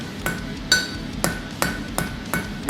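Hammer blows forging a road spike with a round die on the face of an anvil, six sharp ringing strikes spaced roughly half a second apart, close and clear with no talk.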